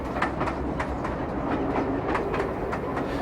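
Great Western Railway pannier and prairie steam tank locomotives moving empty coaching stock around Paddington and Old Oak Common carriage sidings, heard as steady rolling wheel noise with rhythmic clicks over rail joints, continuous and fairly close.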